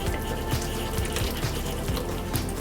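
Reserved pasta water splashes and pours into a saute pan of olive oil and parsley pesto on a low flame, a steady close liquid rush with no talking.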